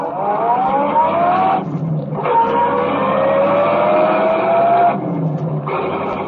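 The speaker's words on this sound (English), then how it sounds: "Go on, drive. Chase that car." A car engine accelerates hard during a chase scene in an old radio crime drama. It swells through two long, loud revving surges that climb steadily in pitch, with a short drop between them and no voices.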